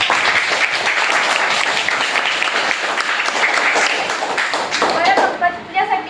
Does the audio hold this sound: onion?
no